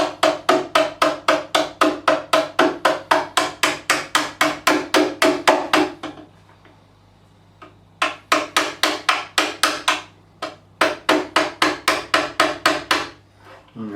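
Frets being hammered into a 1964 Rickenbacker 330 guitar neck: fast, steady, close-up taps in a long even run, a short pause, then more bursts of quick strikes.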